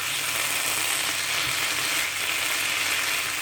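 Loitta shutki and potatoes fry in a pan with a loud, continuous sizzle and light stirring scrapes, close and steady throughout with no voices.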